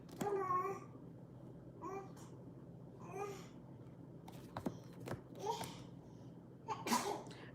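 A sharp sneeze bursts out around the middle, set among a young child's babbling and soft giggles across the clip.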